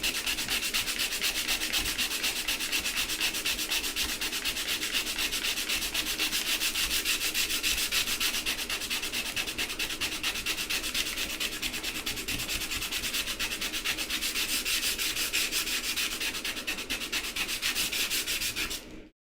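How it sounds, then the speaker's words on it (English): A knife blade is sanded by hand with 220 grit sandpaper near the sharpening choil, giving a loud, close, continuous rasping scrub in fast, even strokes that runs without pause before stopping abruptly. "220 is a great sandpaper for this"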